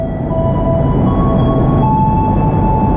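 A feeder train pulls away from Bandung station, heard from on board as a steady low rumble of wheels and carriage with faint high tonal whines above it, loud and continuous throughout.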